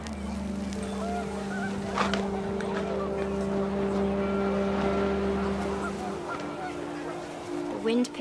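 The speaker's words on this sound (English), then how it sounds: "The wind picked up, and panicked geese appeared and quickly went." Geese honking as they pass in a windy outdoor setting, a few brief calls over a steady low rumble of wind and background drone.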